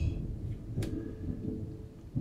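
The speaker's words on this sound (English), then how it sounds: "if I lose power here in a minute, I'm like right in the middle of a storm" Low thunder rolling through a storm outside, a faint, muffled rumble that swells and fades in uneven surges, with a brief sharp knock near the middle and no talking.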